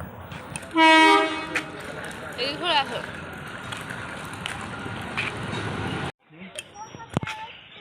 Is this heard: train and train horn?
yes